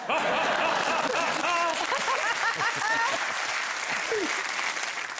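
Studio audience at a comedy quiz show taping applauds and laughs in a broad, steady wash of clapping, while someone speaks over it near the mic.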